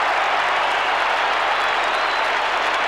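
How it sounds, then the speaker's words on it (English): Applause and cheering swell steadily from the crowd behind the goal at a 1990 AFL qualifying final between Collingwood and West Coast, a dense, continuous roar of clapping with no pauses. "Crowd behind the goal likes it."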